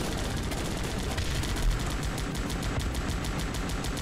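AA guns and mortars fire in the strategy game Guns Up, producing rapid, continuous bursts of gunfire and thudding blasts layered into a dense, steady battle din.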